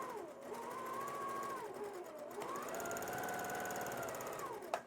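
A sewing machine chain-pieces quilting fabric squares, its motor whining up to a steady speed, running for stretches and easing down between seams, close and moderately loud with no talk.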